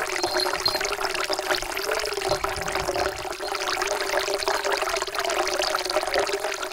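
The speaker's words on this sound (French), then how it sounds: "un peu d'eau. Petite source" Water from a small spring on a mountain trail trickles and pours in a steady, continuous stream close by, with no voices over it.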